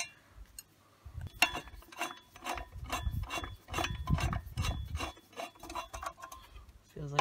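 New Allen screws are fitted by hand into an oil boiler burner assembly, giving faint, close metallic rasping and clicking in a rapid, uneven series of small scrapes.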